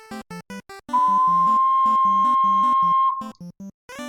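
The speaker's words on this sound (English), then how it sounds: "I'm just gonna play the high C on an alto C ocarina, and it sounds like this." An alto C ocarina holds a high C as a clear, pure, whistle-like tone for about two seconds, sounding over a pulsing backing track.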